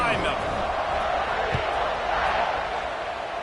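A college football stadium crowd roars steadily as a team lines up to kick off after an extra point, a broad, continuous wash of cheering under a commentator's running play-by-play.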